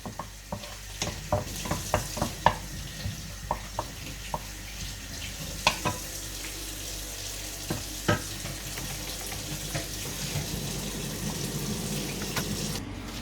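Shrimp and crab browning in a pan, a steady soft sizzle with scattered clinks and scrapes of stirring spread throughout, close by and without speech.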